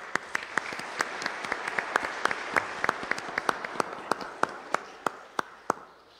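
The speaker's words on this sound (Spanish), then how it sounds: "les damos un aplauso." A congregation applauds during a Sunday Mass, with a broad wash of clapping and sharp individual claps standing out, tapering off over about six seconds.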